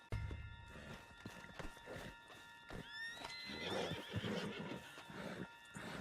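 In the video game Red Dead Redemption 2, a horse gives a clear whinny near the midpoint, surrounded by hoof clip-clops and shuffling, with muffled game voices underneath.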